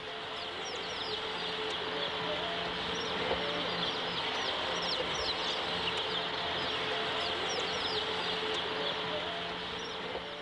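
Battery hens cluck and chirp in a continuous, crowded chorus over a steady mechanical hum, many birds calling at once from a packed indoor shed.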